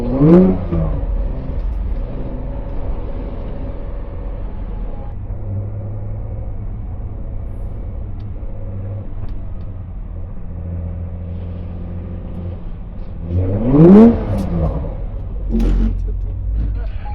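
Porsche car accelerating on the Hockenheimring track, with a sharp engine rev rising at the start and again near the end over a steady low engine rumble, heard from inside the car.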